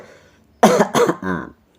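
A person demonstrates a lingering cold-type cough with two or three harsh, throaty coughs, loud and close, with quiet before and after.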